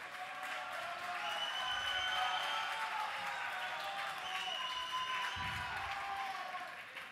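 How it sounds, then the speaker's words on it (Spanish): An audience at a Counter-Strike: Source grand final applauds a player with a steady, dense wash of clapping from a large crowd that holds throughout, with no announcer audible. "Un aplauso para Dragón"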